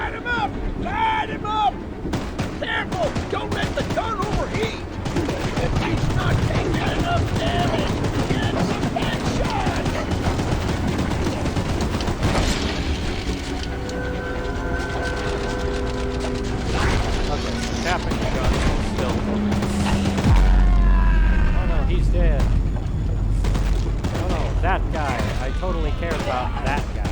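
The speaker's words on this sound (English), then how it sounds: "Get to the gun! Light him up! Light him up! Careful! Don't let the gun overheat!" Rapid bursts of a mounted gun hammer away at Charles in the Choo Choo Charles game, loud and sustained amid wind-like roar and rumble, with frantic voices shouting over the shooting throughout.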